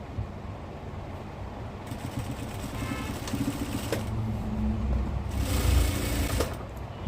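A sewing machine stitches a petticoat, its steady mechanical whirring running continuously and swelling slightly louder toward the end, close and alone without voices.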